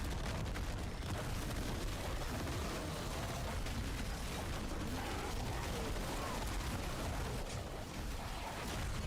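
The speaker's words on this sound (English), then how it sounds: "he just does some random elemental explosions that hurt me" Elemental explosions from an enemy in Diablo 4 rumble as a continuous dense wash of booms and crackling bursts, steady and moderately loud throughout, with no distinct pauses.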